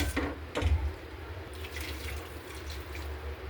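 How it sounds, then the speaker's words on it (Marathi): Hot water pours into a potato, pea and drumstick curry in a cooking pot, a short splashing gush near the start that settles into a soft, steady watery wash at close range. "आता याच्यामध्ये गरम पाणी घालू"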